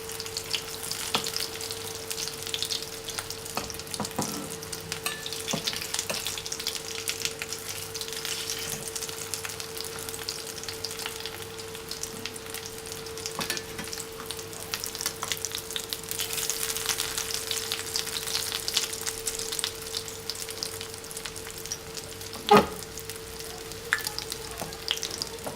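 Chicken cutlets fry steadily in oil on a pan over medium heat, giving a continuous close sizzle with soft crackles and a few clinks as the pieces are flipped, with no talking.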